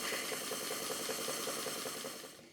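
A Stuart Models beam engine runs on live steam with a quick, even chuffing and light mechanical rattle, steady and close, then easing off at the end.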